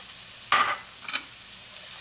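Onions dropped into melted butter in a hot pan, with a short burst of sizzling and a second smaller crackle over a steady low hiss, near and without talk.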